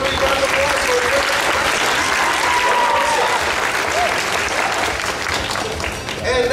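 Sustained audience applause at a cosplay costume contest at Spring Kraken Con 2015, a dense steady wash of many hands clapping at even loudness throughout, with faint voices and cheers mixed in and a slight fade near the end.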